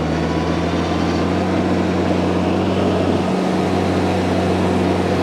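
A Kubota-style compact tractor (the 474, with auto PTO) labors under heavy load while driving a PTO tiller through soil, a steady loud low engine drone with deep rumble, continuous and close with no pauses.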